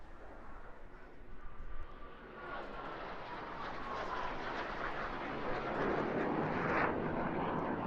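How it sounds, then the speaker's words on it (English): A mid-generation military jet flies past at an airshow in Eastbourne, a broad rushing roar that swells steadily from moderate to loud with no talk over it. "Being a mid-generation aircraft, it's still not able, of course, to perform all its maneuvers"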